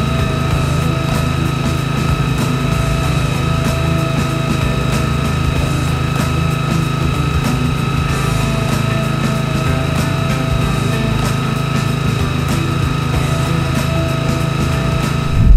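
A Honda GX160 5.5-horsepower engine drives the centrifugal pump of a mobile spray machine, a loud, steady, high-pitched drone that holds unchanged throughout with no talk.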